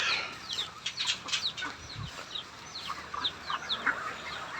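Chickens on a farm in the provinces clucking, with short, irregular calls from several birds in close to mid distance over faint outdoor background noise.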